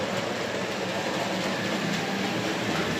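A model railway train runs steadily with a continuous whirring, rushing rumble and no pauses or voices.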